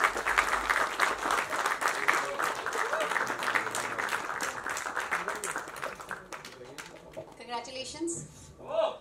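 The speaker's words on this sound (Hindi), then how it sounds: "Please जोरदार तालियां हो जाए अंकित हंस के लिए." Loud audience applause for a film director at a trailer launch event, dense clapping and cheers sustained for several seconds before thinning into scattered claps, with voices talking over it.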